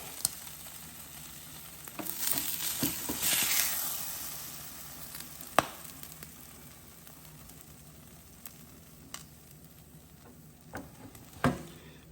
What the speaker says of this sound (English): scrape this cheese, this chopped cheese off, and we're gonna plate it up